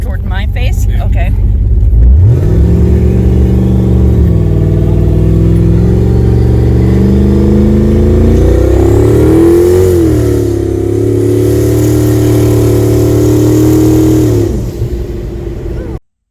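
A drag-build car's engine revs hard and holds a loud, sustained roar through a burnout, the pitch rising and sagging as the throttle varies, with voices faintly underneath.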